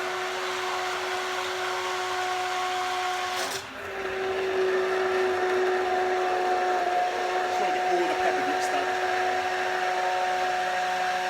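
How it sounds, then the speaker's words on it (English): A blender blitzes cooked pepper for pepper and tomato soup, running as a loud, steady whine with a brief dip partway through before it resumes at a slightly different pitch. "I'm going to try and blitz it again."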